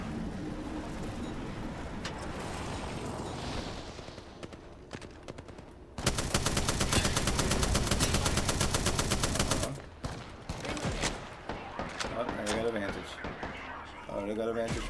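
Rapid automatic gunfire from a battle-royale video game firefight fills a dense, loud burst of continuous shots in the middle, with scattered single shots and game sounds before and after, and a player talking over parts of it.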